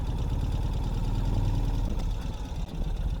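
A 2021 Ural Gear Up motorcycle engine runs at low RPM while shifting into second gear, a steady low throbbing rumble heard close with a brief dip near the end.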